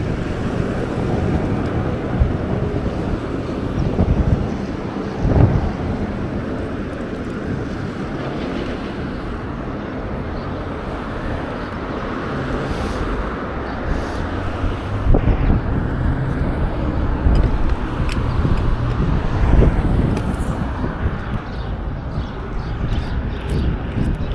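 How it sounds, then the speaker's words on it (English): Strong wind buffets the microphone throughout a ride, a loud continuous low roar with gusts swelling and easing, with no talk over it. "Man, this wind is just nuts."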